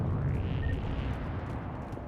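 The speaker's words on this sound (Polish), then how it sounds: "Wow, piękny wybuch." An explosion in the video game Mass Effect 3 Legendary Edition: a deep, rumbling blast that stays loud and sustained throughout with a long rolling low tail, without any speech.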